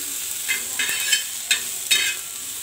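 Tomatoes roasting in a little oil on a flat pan on the stove, a steady soft sizzle broken by several brief louder spits and stirring scrapes, close and moderately quiet with no voices.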